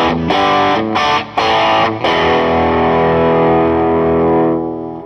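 A Fender Vintera 50's Stratocaster on the bridge pickup plays through the distorted channel of an amp with moderate gain, a few sharp chord hits followed by a long sustained ringing chord that slowly fades.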